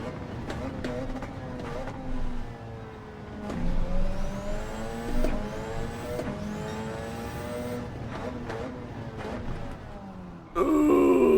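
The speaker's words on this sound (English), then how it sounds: "Just the car doesn't want to seem to slow down." Race car engine in a racing video game, a steady droning whine with rising and falling harmonics as it accelerates and shifts, continuous and fairly loud throughout, ending in a brighter burst of noise.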